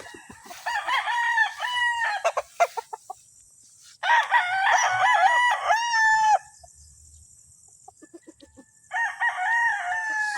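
Sweater roundhead gamecock rooster crowing in three loud, drawn-out calls separated by quiet gaps, close by with a faint background hum.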